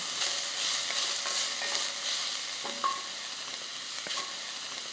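Onions fry in a pan over medium heat with a low, continuous sizzle, broken by occasional spoon taps and scraping stirs against the pan, close and fairly quiet.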